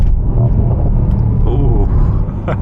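Mercedes-AMG SL V8 engine rumbling deep and close as it downshifts in manual mode, a low steady roar with a brief rise near the end.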